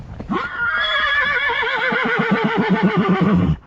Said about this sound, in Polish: koń naprawdę idzie krokiem takim, że ho ho